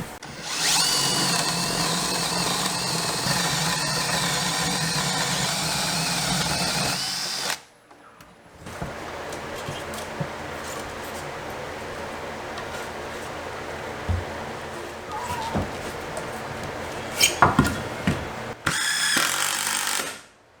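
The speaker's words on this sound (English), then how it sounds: "then drill our 3 holes here" A power drill whirs loudly in a long sustained burst drilling holes in wood, pauses amid handling clatter, then starts up again briefly.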